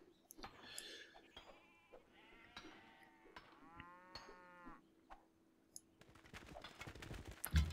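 Sheep bleating in the strategy video game Civilization 5, a few quiet wavering animal calls over a soft ambient game backdrop, faint and spaced apart.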